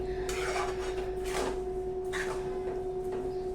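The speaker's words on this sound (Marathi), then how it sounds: "हे बघा मी मस्तपैकी हलवून घेते" A spoon stirs sweet lemon crush pickle with jaggery in a pot over high heat, making a few soft scraping strokes over a steady electrical hum, with no talking.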